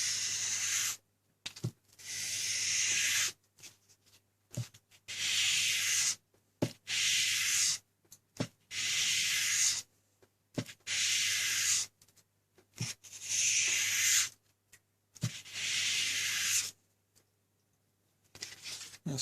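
A convex knife blade is dragged along wet/dry sandpaper in about nine slow, even strokes, each a close, gritty rubbing hiss separated by brief silences.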